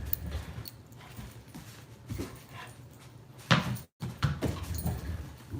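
A dog barks in sharp, loud bursts, alarmed and protective, with sudden peaks around the middle and end over a restless background, close to the listener.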